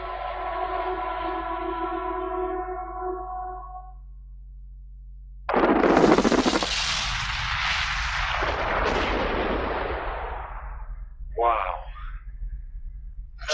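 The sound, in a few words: mining explosives blast at a gold mine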